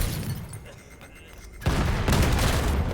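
A grenade goes off in a Call of Duty Black Ops 3 hardpoint match during a 4v4 league game. After quieter gunfire-like crackle, a sudden loud blast erupts midway and rumbles on under a commentator's voice.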